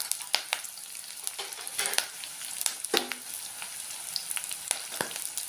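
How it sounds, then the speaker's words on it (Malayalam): Garlic, green chili and curry leaves sautéing in a pan for pulinchikka pickle, a continuous close sizzle broken by frequent clicks and scrapes of stirring. "നന്നായിട്ട് ഇളക്കി വഴറ്റിയെടുക്കണം"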